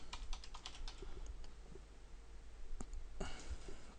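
Quiet, close typing on a computer keyboard, a short burst of rapid key clicks followed by scattered taps and a final cluster of keystrokes over steady background hum.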